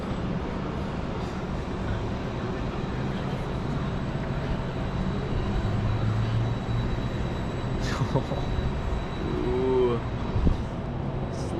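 The Tundra Twister ride at Canada's Wonderland makes a continuous rumbling roar of rolling coaster cars on track, steady and moderately loud, with brief rider exclamations and a few clanks near the end.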